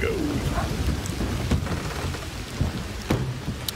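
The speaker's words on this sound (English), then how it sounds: "it's very loud at that thunder" Rain and thunder in the video game Red Dead Redemption 2 fill the scene: heavy rain patters steadily while sharp thunder cracks strike loud and near, with no voices over them.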